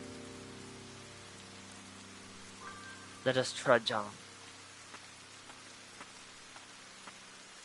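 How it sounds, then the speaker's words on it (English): Steady rain falls in Ender Lilies: Quietus of the Knight as an even wash of patter, with faint scattered drips and a voice speaking briefly midway. "You think me the sort of wretch to leave a child out in this horrid rain."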